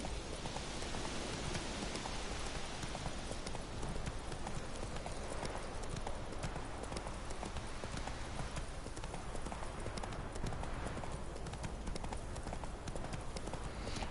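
Geralt's horse Roach trotting in The Witcher 3 video game, with a steady, brisk clip-clop of hooves throughout and a constant rain-like hiss beneath it. No voices.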